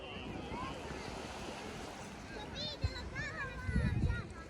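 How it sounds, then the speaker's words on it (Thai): Sea waves wash onto an Italian beach on a summer morning, a steady broadband rush with heavy wind buffeting the microphone and surges near the end, while voices talk faintly in the background. "นี่ค่ะทะเล ที่ปฏิปายานะคะ"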